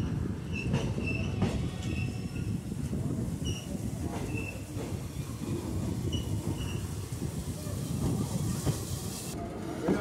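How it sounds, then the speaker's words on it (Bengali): Kanchenjunga Express sleeper-class passenger train pulling out of a busy station on the New Jalpaiguri to Sealdah run: a loud, steady rolling rumble with scattered high wheel squeals, heard up close from on board. "এখান থেকে ট্রেন ছেড়ে দিয়েছে"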